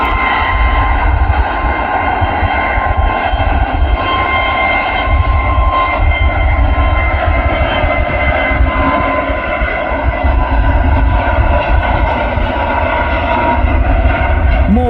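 Airbus A340 jet engines at takeoff at Manchester Airport give a loud, steady, close roar with a whining hum layered on top, continuous for the whole stretch.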